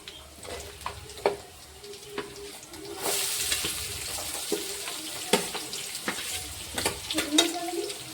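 Chopped onions go into hot oil with cumin and mustard seeds for a gram flour stir-fry, setting off a burst of sizzling with repeated stirring clatters and scrapes, close up and without talk.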